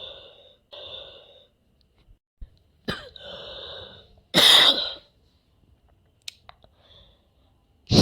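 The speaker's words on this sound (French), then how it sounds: "Excusez-moi pour la toux." A person clears their throat and coughs several times in a quiet room, with loud, close bursts separated by breaths and short silences.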